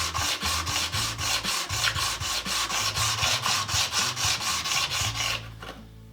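A plane blade is rubbed back and forth on coarse abrasive grit paper in a workshop, about twenty steady scraping strokes close up, then stopping.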